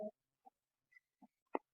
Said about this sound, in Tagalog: Manok doon.